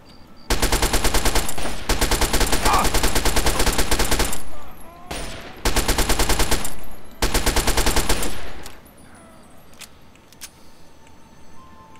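Submachine gun fire in the video game Fallout 3: loud sustained automatic bursts, about three long volleys with short gaps, then quieter ambient game sound with a few faint clicks.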